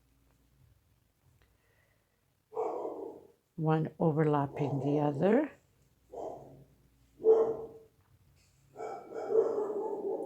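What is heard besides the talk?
dogs barking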